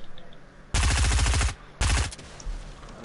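Two loud bursts of rapid automatic gunfire from a video game, each lasting under a second, separated by a short pause.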